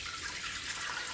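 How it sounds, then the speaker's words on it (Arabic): A little water is poured into sifted flour for pizza dough, a soft continuous trickle heard close and alone for a brief moment. "غنكب الماء شويه"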